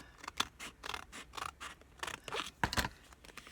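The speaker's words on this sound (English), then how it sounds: "So I'm going to trim you up there, across the roof." Scissors snip and trim paper for a golden glitter junk journal booklet in a series of quiet, quick, irregular cuts, heard alone without talking.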